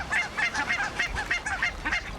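Several geese, territorial ganders, honk in a rapid repeated series of nasal calls, fairly close and loud, with no talk over them.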